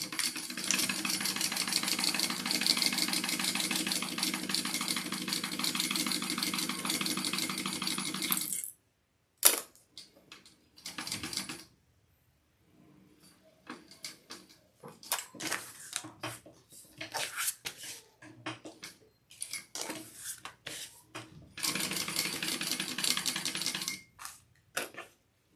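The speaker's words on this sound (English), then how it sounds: "I'm going to sew this Decaville Heavy on just so it doesn't want to budge on me" A sewing machine stitches Decaville Heavy interfacing onto a handbag, running in steady rapid bursts of mechanical whirring and ticking, broken by pauses with quiet handling noises.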